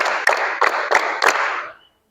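Five crisp claps from a group of pupils at a steady, slightly uneven beat in a classroom counting drill, close and clear over a background hiss, ending abruptly in silence.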